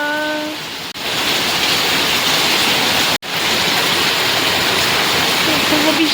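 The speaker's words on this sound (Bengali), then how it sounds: "বৃষ্টি হচ্ছে।" Steady, loud rain pours down as an unbroken broadband hiss that fills the whole span, with two brief dropouts and faint tonal sounds near the start.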